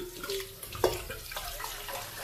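Tap water runs steadily over a stainless steel pan in a home kitchen sink as it is rinsed, a close, continuous splashing flow with one brief louder splash partway through and no talk.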